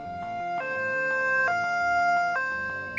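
A two-tone ambulance siren alternates between high and low pitches at a steady pace, loud and continuous over background music.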